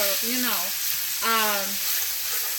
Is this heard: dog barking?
no